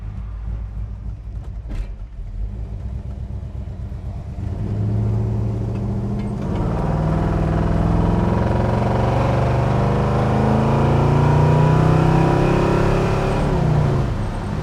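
A 1966 Chevrolet Chevelle SS engine, heard from inside the car on a road, idles low and steady, then swells into a loud, sustained acceleration with a rising engine note that builds and holds before easing near the end.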